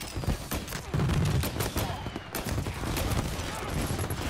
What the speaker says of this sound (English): Someone's got a Tommy gun